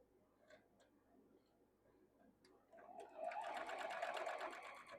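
A sewing machine stitches a quilt block seam, starting up after a few quiet seconds and then running in a fast, steady mechanical rattle up close, with light ticks and faint background noise before it begins.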